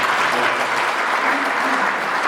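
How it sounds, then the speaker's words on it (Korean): An audience at a study group meeting gives a round of applause, a thick, even wash of many hands clapping, loud and sustained without pause. "큰 박수 부탁드리겠습니다."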